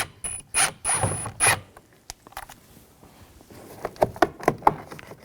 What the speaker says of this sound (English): Take this screw out. Use a Phillips head screwdriver.